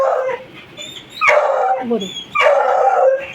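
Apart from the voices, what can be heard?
dog barking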